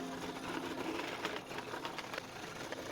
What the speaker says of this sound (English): we're going to cut it out using the scroll saw